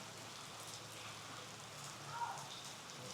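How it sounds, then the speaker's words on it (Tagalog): Steady rain falling, a constant even hiss of drops on surfaces with no breaks, moderately loud and nearby. "Naiinis na ako sa ulan."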